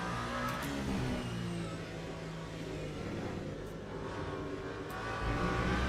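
A race car engine in the sim racing game Le Mans Ultimate drones fairly faintly and steadily, its tone shifting a little as the car brakes and accelerates.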